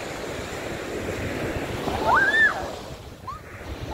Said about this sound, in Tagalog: Yung dagat, hindi ganun kalakas naman yung alon.